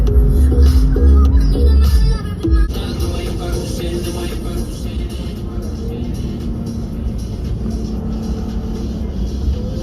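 A Ford Raptor pickup truck engine rumbles loudly and revs hard at the start, then settles into a steady driving drone on a backroad, with gear shift issues.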